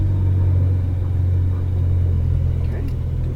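Ferrari 458 Italia V8 engine rumbling steadily while driving slowly through a paddock toward the pits, a loud, close, continuous low drone with faint talk at times.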